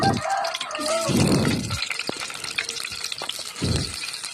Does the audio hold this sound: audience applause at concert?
no